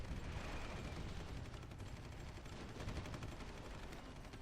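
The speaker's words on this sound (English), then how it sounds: "They have a lot of missiles that they're shooting at me." Missiles and gunfire in the war strategy game Supreme Ruler Ultimate, a dense continuous rattle of shots and blasts, fairly quiet and unbroken throughout.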